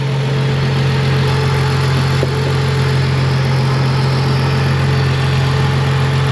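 A BMW 325i engine idles steadily and loudly up close, a constant low hum with an even mechanical rumble and no talking.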